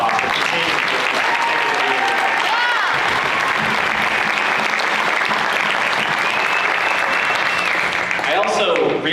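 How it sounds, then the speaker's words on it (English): An audience at a fall school band concert gives loud, sustained applause for the marching band and color guard, dense clapping filling the room with a few cheers mixed in. "can you just give them a round of applause for continuing to do that"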